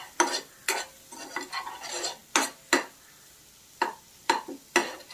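Green chili, garlic and ginger paste frying in a pan, with a spatula scraping and stirring in loud irregular strokes over a soft sizzle.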